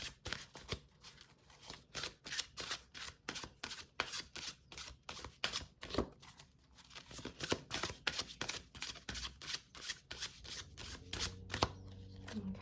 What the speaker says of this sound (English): I'm going to focus as I shuffle